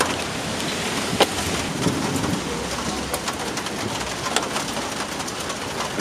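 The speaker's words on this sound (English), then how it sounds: "Also, it's raining, of course." Outdoor rain in New York falls as a steady hiss with scattered sharper drops and taps, moderately loud, with no talking.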